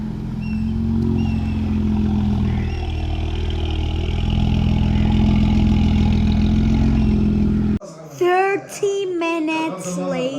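Straight-piped Audi B9 S5 V6 engine arriving in a continuous loud, deep drone that swells as it approaches on a street in Chandigarh, then cuts off abruptly, leaving someone talking excitedly.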